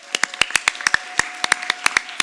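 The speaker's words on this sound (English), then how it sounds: "if we could give them a round of applause as well" Applause from an audience at a school board meeting: irregular, sparse claps spread across the room, fairly close and moderately loud, with no talking over them.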